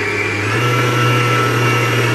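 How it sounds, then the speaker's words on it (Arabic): An electric mixer whirs steadily as it briefly beats flour with eggs into a cake batter, a loud continuous motor hum running alone with no talk. "هي ضربة ضربتين للدقيق مع البيض وبس كده"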